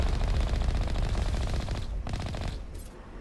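Sustained automatic gunfire in the Mass Effect video game, bullets pattering and ricocheting off an armored vehicle, dense rapid bursts loud throughout before thinning toward the end.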